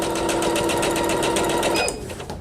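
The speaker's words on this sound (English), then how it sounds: "So I start with my needle up, then I put my presser foot down, and now I'm going to sew." An EverSewn Sparrow X2 embroidery and sewing machine stitches at a fast, even, buzzing pace for about two seconds, then slows and stops.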